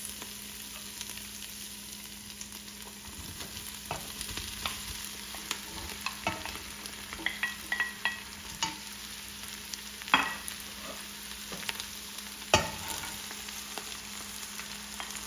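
Potatoes and carrots tumble into a pot of softened onions for soup and get stirred, giving a quiet bed of sizzling with scattered spoon scrapes and clinks, some sharper knocks standing out.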